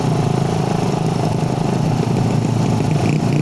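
A Suzuki Raider 150 motorcycle engine runs close and loud, idling with a steady, buzzy mid-pitched tone, with slight rises in revs, a rough second gear mentioned as faulty.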